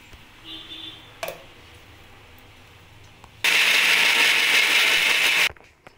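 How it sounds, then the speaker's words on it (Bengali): A mixer grinder whirs loudly for about two seconds, blending black mustard seeds, coconut, four green chillies and a little water into a paste, starting abruptly after a few soft clicks and stopping just as suddenly. "মিক্সিং জারের মধ্যে আমি নিয়েছি কালো সর্ষে আর নারকেল আর কাঁচা লঙ্কা 4টে, আর একটু জল দিয়ে এটাকে পেস্ট করে নেব"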